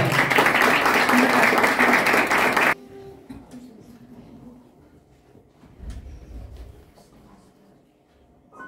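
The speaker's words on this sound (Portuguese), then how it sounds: "Para ela, uma grande salva de palmas" An audience bursts into dense, loud applause for a performer who has just played Piazzolla's Milonga del Angel. The clapping lasts about three seconds, stops abruptly, and leaves a quiet room with faint shuffling.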